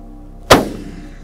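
A single loud rifle gunshot fired while hunting blackbuck outdoors, a sharp crack followed by a short fading echo.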